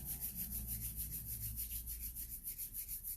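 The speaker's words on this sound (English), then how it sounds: "Rub your hands together." Palms rubbing briskly together in a quiet room, a soft, even swishing that repeats in quick rhythmic strokes, close and faint.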